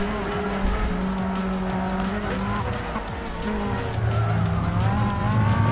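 A Pescarolo C60 hybrid race car in Gran Turismo 6 roars close by at high revs, with the engine note rising and falling through gear changes and tires squealing under the steady drone.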